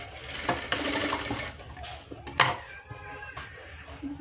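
A sewing machine stitches a lined blouse in short close bursts, with clicks and thumps of fabric handling between the runs.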